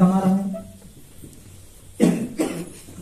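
A man coughs in two sharp, loud bursts near the end, after a stretch of his speech and a quiet pause.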